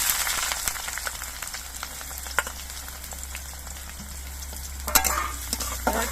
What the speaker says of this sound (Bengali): এবার এর মধ্যে আমি কিছু কোচানো পেঁয়াজ দিয়ে দিচ্ছি